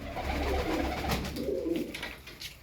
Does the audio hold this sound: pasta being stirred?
no